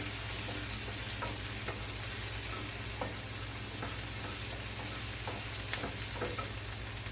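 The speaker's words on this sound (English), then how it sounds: "while I'm sauteing this" Breakfast taco ingredients sauteing in a pan give a steady close sizzle, with scattered clicks and scrapes of stirring throughout and a low constant hum beneath.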